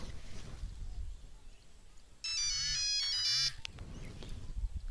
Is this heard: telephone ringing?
yes